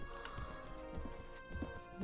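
Horse hooves clip-clopping on the ground in the medieval battle game Mount and Blade: Warband, following a cavalry fight; uneven, moderately close hoofbeats over a low rumbling background, with no talk.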